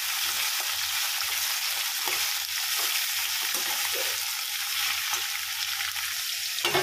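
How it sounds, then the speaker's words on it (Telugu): Sliced bitter gourd fries in a pan with salt, giving a steady, loud hiss of sizzling oil, broken now and then by the scrape of a spoon stirring. "కాకరకాయలన్నీ వేసుకున్నాను. కొంచెం సాల్ట్ వేస్తే తొందరగా ఫ్రై అవుతాయి."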